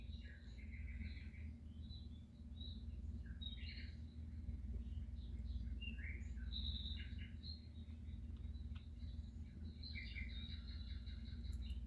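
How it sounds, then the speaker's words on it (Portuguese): Small birds sing somewhere around a room, heard as faint, scattered high chirps and tweets over a steady low background hum, with no talking. "o som dos passarinhos que estão aqui cantando no ambiente que eu tô"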